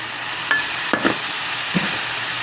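Turmeric, salt, cumin, green chilli paste and ginger paste frying in a pan, a soft continuous sizzle broken by a few brief clinks and scrapes of a spoon stirring.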